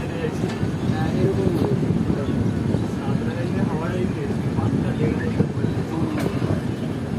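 The Samaleswari Express, a Jagdalpur to Howrah passenger train, rumbles along in a dense, steady roar with rattling clatter, heard from on board with a voice talking over it.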